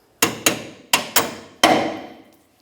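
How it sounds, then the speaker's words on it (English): Five sharp metallic hammer blows drive a leaf spring shackle bolt out of a 1994-2002 Dodge Ram 2500, close and loud, in an uneven rhythm, each strike ringing briefly before the next. "Continue on with a hammer, we'll drive this out of place"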